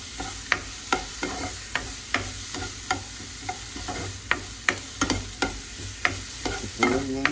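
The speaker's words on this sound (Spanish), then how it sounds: "Menear la cebollita." Onion frying in a pan sizzles steadily while a spoon scrapes and taps through it in regular, close strokes about twice a second.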